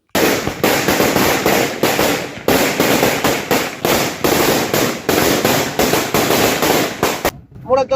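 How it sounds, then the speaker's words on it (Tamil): A long, loud string of firecrackers bursting in rapid, unbroken crackling pops for several seconds, stopping abruptly near the end. "மக்கள் பட்டாசு வெடித்துக் கொண்டாடினர்"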